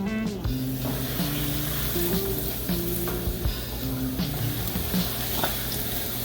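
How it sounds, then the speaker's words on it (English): Chicken fried steak shallow frying in a little oil, giving a steady, close sizzle and crackle throughout, with a low hum underneath. "it's just a little shallow fry, as you can see. Not much oil, just a shallow fry"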